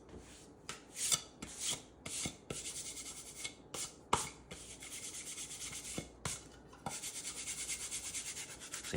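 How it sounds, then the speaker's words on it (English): Old glue residue being rubbed off a table tennis blade by hand, a quiet close series of irregular scraping rubs and short strokes with brief pauses, alone without talk. "I'm just getting the old residue off, but I don't want it to go over everything."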